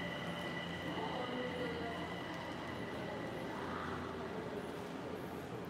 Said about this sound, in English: Oh, that's the train leaving sound?